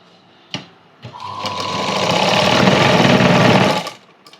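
A couple of sharp clicks come first, then a sewing machine runs a loose stitch on a cross cut blouse in one steady, close burst of whirring lasting about three seconds before it stops.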